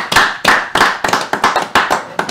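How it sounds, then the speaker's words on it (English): Short bursts of hand clapping from a small group cheering a basketball team, about eight uneven rounds close by with brief gaps between them, no talk over it. "Give them a round of applause,"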